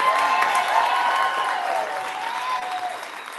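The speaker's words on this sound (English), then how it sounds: "So please just give a round of applause for A Girl." An audience at a live influencer event in a Nashville café claps in sustained, fairly loud applause that stays dense and even before easing slightly toward the end, with voices faintly mixed in.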